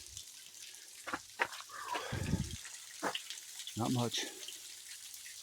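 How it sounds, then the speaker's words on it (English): A small, low-running creek on a forested hiking trail trickles faintly and steadily in the background, its soft water noise sitting under a man's intermittent speech and a few nearby rustles. "Got a little bit of a trickle."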